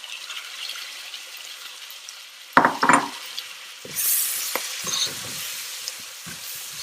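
Chopped tomatoes and turmeric hitting a hot pan, faint sizzling broken by a few clinks and scrapes of a spoon stirring, quiet and close with no talk.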